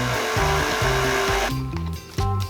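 A stand mixer whirs loudly and steadily as it blends sugar, salt and yeast for sesame seed burger bun dough, its motor pitch stepping up and down in a rhythmic pattern, close and alone without talk.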